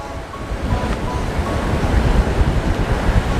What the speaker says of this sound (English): when the tide comes in, it's like nature's pressure washer, and it just shoots the water up through there